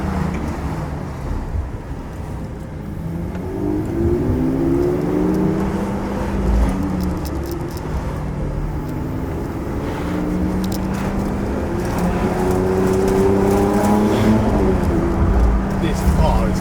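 A Lamborghini SVJ supercar's engine drones and rises in pitch as it accelerates, heard from inside the cabin under wind noise, with occasional voices.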